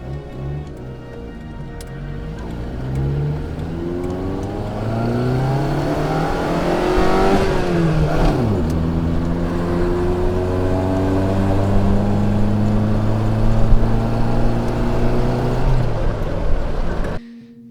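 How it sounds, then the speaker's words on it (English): A 1973 FIAT 128 accelerating on the road, the small engine revving up through the gears with rising and falling pitch, loud and close from inside the car, no talking. "let's see how the car accelerates"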